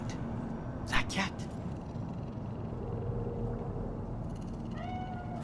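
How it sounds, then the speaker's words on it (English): A cat in Cyberpunk 2077 gives a short meow near the end, with rising and falling tones, over a steady low in-game ambience and background hum. "Do you see it? That cat?"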